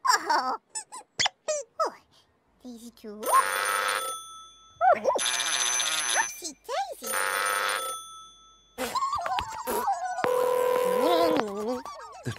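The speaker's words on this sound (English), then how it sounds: "The trubbly phone is ringing." A toy telephone in a children's television garden gives bursts of bright, warbling electronic ringing, repeated several times in loud stretches between squeaky, sing-song voiced sounds.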